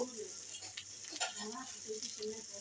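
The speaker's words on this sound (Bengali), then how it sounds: "আর কি সুন্দর ফুটছে দেখুন বন্ধুরা" A pan of taro stolon and prawn paturi bubbles and sizzles steadily while it cooks, with soft crackling pops. The sound is close and continuous, and a voice talks over it.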